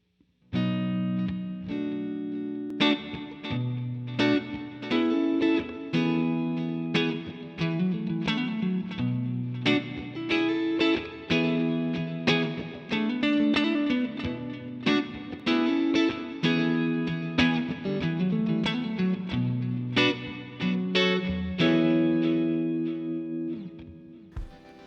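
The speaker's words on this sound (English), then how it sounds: "here is my clean tone on the Strat" A Stratocaster electric guitar rings out in a clean tone, strummed chords and picked notes in a steady rhythm, loud and close with light effects and no talking.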